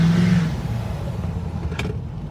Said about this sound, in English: Turbo noise is nice.